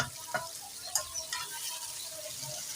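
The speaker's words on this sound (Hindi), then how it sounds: "चिकन को अच्छे तरीके से फ्राई करेंगे इसके अंदर" Chicken frying in a pan with onion, tomato and green chili, a quiet steady sizzle with a few scraping stirs and clinks nearby.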